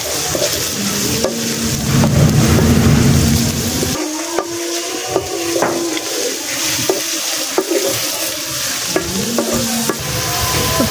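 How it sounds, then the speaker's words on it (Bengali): Chopped onion and garlic sizzle and crackle in hot oil over a clay stove, loud and close, with occasional stirring clinks and scrapes against the pan. "তো তেলটা গরম হয়ে গেছে, এখন পেঁয়াজ আর রসুন কুচিগুলা দিয়ে দিব"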